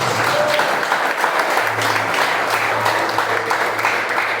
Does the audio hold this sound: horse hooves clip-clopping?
no